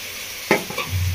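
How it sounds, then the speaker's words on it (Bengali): A spoon scrapes and stirs a dry-roasted spice mix into fried ginger and garlic in a pan for a Bengali echor chingri curry, giving one quick stir stroke over a soft, steady sizzle; close and brief. "ভেজে রাখা মশলাটা খুব ভালো করে কষিয়ে নেবো 2 মিনিট মতো।"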